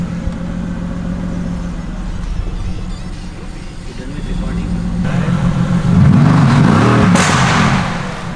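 A sports car engine idles and then revs up louder in S Plus sport mode, a deep throaty roar rising near the end, with people talking over it.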